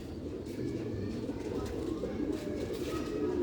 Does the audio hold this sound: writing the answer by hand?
no